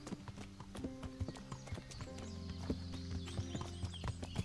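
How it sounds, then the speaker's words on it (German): Hooves clip-clop steadily at a riding pace as a horse is ridden in the medieval game Kingdom Come: Deliverance, with a brief whinny and layered game ambience around the repeated close thuds. "Wo reiten wir eigentlich hin, Hans?"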